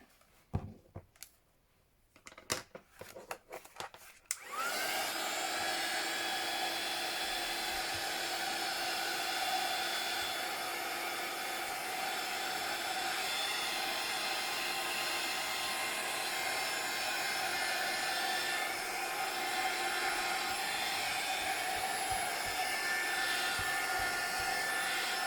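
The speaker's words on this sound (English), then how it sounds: "Bring my heat tool back in." After a few seconds of faint knocks and handling noises, a craft heat tool switches on and blows a steady, loud whirring hiss across a mixed media page, continuing without a break until the end.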